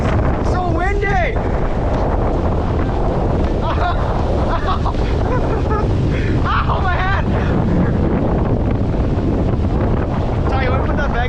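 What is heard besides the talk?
strong wind gusts on a mountaintop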